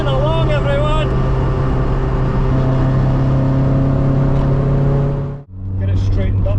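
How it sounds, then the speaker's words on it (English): Vauxhall Nova 1600 multi-point 8-valve engine buzzing along under load, a loud steady drone with engine harmonics that cuts off sharply near the end before picking up again, with some talking at the start. "What a great little engine that 1600 multi-point 8 valve is."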